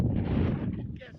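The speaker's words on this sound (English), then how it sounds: "at this point, it's too windy" Wind buffeting a GoPro at a Badlands overlook in Theodore Roosevelt Park: loud, rumbling gusts battering the microphone, close and continuous, easing off near the end.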